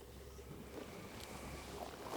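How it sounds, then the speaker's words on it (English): Water running through a small recirculating creek in a spring cottage garden, a soft continuous trickle and wash heard faintly and steadily with no talking. "you get the sound of running water and it just recirculates"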